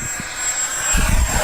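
FMS SU-27 radio-controlled jet with twin 70mm electric ducted fans, running on a 6S pack, passing low and fast over a grass field, giving a loud steady high-pitched fan whine that swells as it nears, over wind buffeting.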